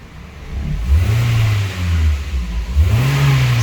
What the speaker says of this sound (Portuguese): Tô acelerando o carro